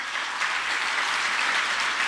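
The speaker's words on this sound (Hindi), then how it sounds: "जोरदार तालियों से" Loud, steady applause from an audience at a school event in Delhi, continuous dense clapping filling the whole stretch with no talk over it.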